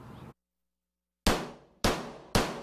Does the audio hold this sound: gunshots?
yes